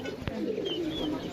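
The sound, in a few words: pigeons cooing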